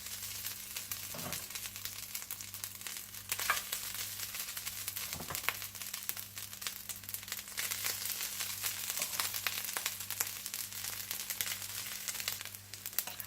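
Garlic rice tipped onto a hot, oiled sizzler plate, giving a continuous crackling sizzle with crinkly hiss and a few louder pops, steady and close for the whole stretch.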